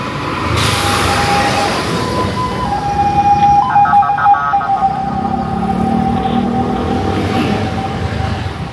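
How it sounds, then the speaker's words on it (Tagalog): An ambulance siren passes on a street in Cagayan de Oro, a loud wailing tone over steady traffic rumble, rising then fading as the vehicle goes by. "Ay ambulansya ni Agi."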